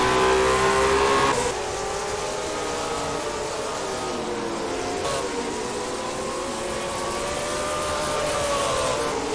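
Late model stock cars race around Hickory Motor Speedway, their engines droning loudly and steadily with pitch rising and falling as the pack passes, a louder roar at the start.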